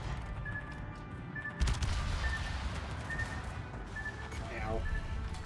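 Warship main battery salvos in World of Warships boom beneath continuous rumbling naval combat, one sharp heavy blast standing out amid steady low battle noise, with game alert tones chiming over it.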